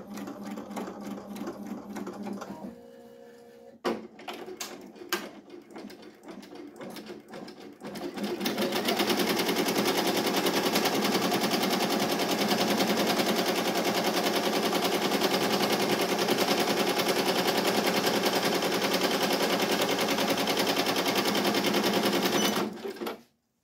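An embroidery machine stitches a design onto a sweatshirt in a hoop, running as a loud, steady rapid needle chatter for most of the span after a few brief starts and stops, then halting abruptly at the end.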